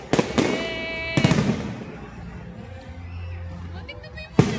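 A fireworks display bursts with several sharp booms and crackles across a few seconds, loud and nearby, with excited crowd noise and scattered voices between the blasts.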